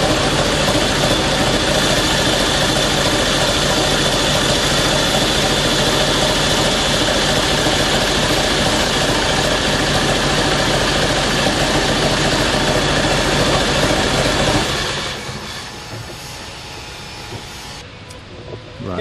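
A tractor engine runs loud and steady nearby with a dense, droning rumble, then drops sharply to a quieter idle-like hum toward the end.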